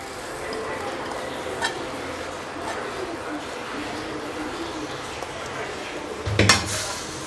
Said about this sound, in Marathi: आता मी गॅस बंद करते आणि एका ताटात काढून घेते